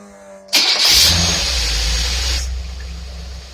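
A medium engine, running again after its very dirty carburetor was cleaned, cranks and catches abruptly, roars with a loud rev, then settles back into a steady, close idle.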